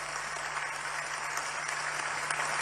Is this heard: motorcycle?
no